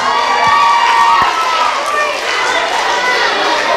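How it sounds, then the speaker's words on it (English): Crowd at a school back-to-school pep rally cheering and shouting loudly, a dense roar of voices with children's yells sustained throughout. "a round of applause for our academic stars"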